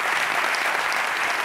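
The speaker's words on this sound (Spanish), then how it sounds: "Un aplauso para Antonio." A studio audience at a Spanish late-night show bursts into brief, dense applause for Antonio, a full wash of clapping throughout.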